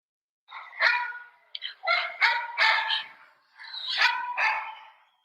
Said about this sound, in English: That dog just loves Chloe.